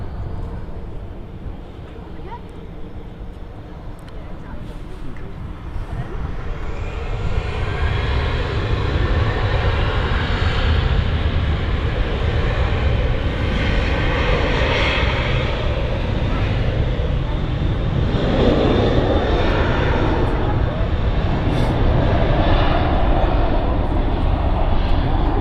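An EasyJet jet airliner at Manchester Airport, its engines building from a quieter start into a loud, sustained roar that holds steady for the rest of the stretch.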